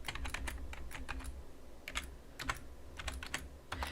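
Rapid clicking of fingers typing on a computer keyboard, bursts of keystrokes separated by short pauses, close and fairly quiet.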